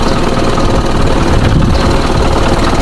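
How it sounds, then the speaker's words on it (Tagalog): An Isuzu 4HL1 diesel engine runs steadily at close range, a loud, dense and continuous rumble with a knocking texture and no talk over it. "Ayan, maganda umandar yung kanyang makina."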